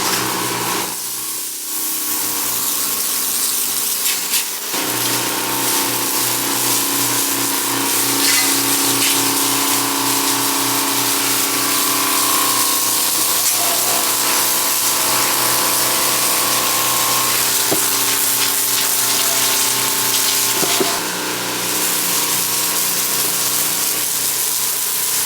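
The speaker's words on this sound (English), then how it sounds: "I love to come back here and just power wash the back patio." Small battery-operated Sunjo power washer spraying a back patio, a steady loud hiss and motor drone running continuously throughout with slight shifts in tone.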